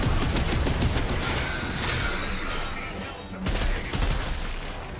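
Weapon gunshots in the shooter Outriders form a continuous, dense barrage of close, loud firing that blends into a noisy wash with no pauses, and a voice talks faintly underneath.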